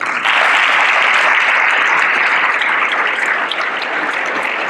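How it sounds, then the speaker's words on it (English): Dense, sustained applause from a large crowd at a hall of fame awards show, a steady wash of many hands clapping at once, loud and even throughout with no speech over it. "And for that, Coach Conway, we applaud you."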